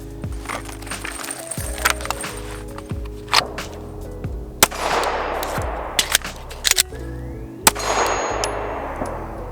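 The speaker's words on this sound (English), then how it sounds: "drawing a secondary, placing a shot, and then another reload" A pistol is drawn from an INVRT Bandoleer IC13 and fired, with sharp metallic clangs and clicks of handling and a reload following, several distinct loud impacts spaced across the stretch without talk.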